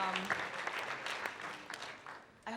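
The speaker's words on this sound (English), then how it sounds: "Everyone, round of applause to our amazing panelists." Audience applause for panelists at a Web3 media and entertainment NFT conference, a steady wash of clapping that thins toward the end before a brief burst returns, heard at a moderate distance.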